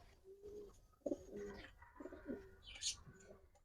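A pair of Chuithal pigeons coos in soft, repeated low rolling calls, close by, with a brief higher chirp near the end and faint background noise.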